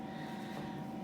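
Air fryer winding down in a home kitchen, a faint, steady whirring hum of the fan, constant throughout with no voices.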